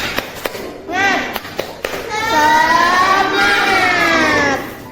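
A primary school class of fifth graders claps a rhythmic 'tepuk semangat' chant, sharp hand claps mixed with children's chanting voices and a teacher talking in a classroom, loud and close.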